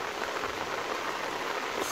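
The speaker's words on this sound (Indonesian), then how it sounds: "Ini hujan rintik-rintik dan ini semakin lama semakin deras." Steady light rain falls in the early morning before dawn near a traditional market in Ambulu, a constant soft hiss of drops on surfaces with no voices.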